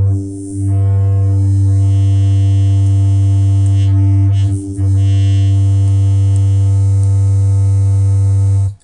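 Heavy synth bass from NI Massive using the Scrapyard wavetable, a loud, sustained droning buzz that holds steady for several seconds, briefly shifts tone midway, then cuts off at the end.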